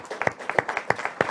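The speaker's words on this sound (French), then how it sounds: "On peut l'applaudir." Sparse applause at a mayor's New Year ceremony with medal presentations, a handful of distinct, fairly close claps in an irregular rhythm rather than a full crowd.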